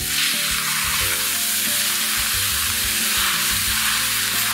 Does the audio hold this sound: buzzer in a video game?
no